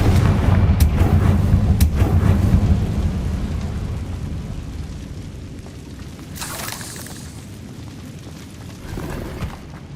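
A Confringo explosive spell in Hogwarts Legacy bursts with a loud, deep rumbling boom at the start, then trails into a lower roar with a crackling flare midway and another small thump near the end.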